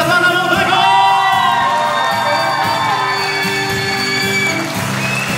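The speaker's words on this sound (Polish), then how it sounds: "Brawa dla pana młodego!" Wedding guests at a reception in Otwock Wielki cheer and applaud the groom, a loud crowd of whoops and shouts over live band music playing steadily throughout.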